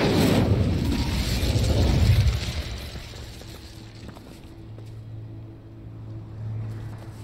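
Incendio fire spell cast in Hogwarts Legacy: a loud roaring whoosh of flame that swells for about two seconds, then fades into a low rumbling background hum.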